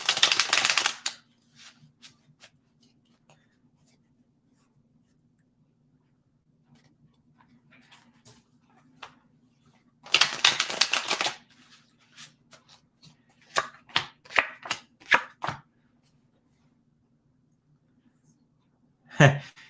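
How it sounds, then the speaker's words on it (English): Playing cards are tossed onto a table in short crisp slaps and flutters, a few separate bursts with quiet gaps between them. "we'll throw some cards down"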